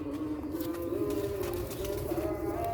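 Sialkoti black-faced pigeons cooing nearby, a low throaty rolling coo repeating over a steady background hum, with no voices.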